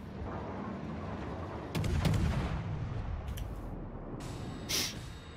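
Naval guns fire in World of Warships aboard the cruiser Paolo Emilio, two muffled, distant booms rising over a constant low rumble of sea and engine noise.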